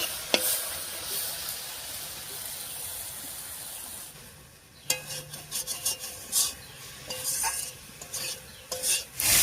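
Chopped taro stems stirred in a pan over high heat, the released water cooking off with a soft sizzle and hiss; scraping stir strokes come in bursts, close and moderately quiet, with no talking.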